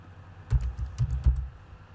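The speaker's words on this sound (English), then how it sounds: "Now go to your search area, type in variable." Keystrokes on a computer keyboard entering a search term into the Windows search box, a short burst of about three or four close, soft clicks with no talking.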